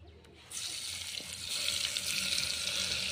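Cauliflower 65 pakoda batter dropped into hot oil in a clay pot, sizzling and bubbling steadily, jumping louder after a brief quiet start and holding a dense, continuous fry hiss.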